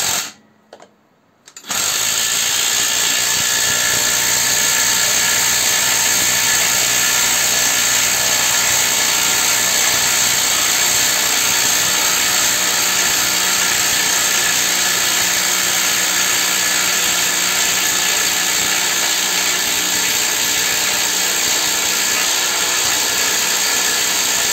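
A Parkside Performance PDSSAP 20-LI B2 cordless impact wrench drives a screw, starting after a brief quiet moment and then running as a loud, continuous, buzzing hammering whir for over twenty seconds.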